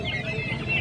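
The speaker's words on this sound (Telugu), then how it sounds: "అన్న ఈ కోళ్ళు ఇవి ఫ్యాన్సీ కోళ్ళు" Fancy chickens for sale at the busy Ieeja market cluck close by in quick, clipped bursts over a murmur of market noise.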